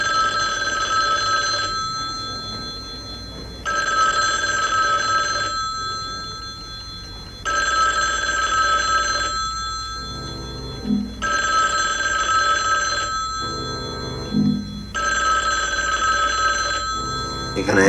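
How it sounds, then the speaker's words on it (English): Old-fashioned telephone bell ringing in a film scene, loud bursts of about two seconds repeating in a steady ring-pause cycle, with brief low sounds between a couple of the rings. "You gonna answer the phone?"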